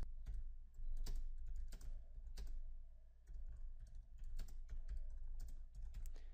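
Fingers type text on a computer keyboard in quick, uneven bursts of close, crisp key clicks, with brief pauses between words and no voices.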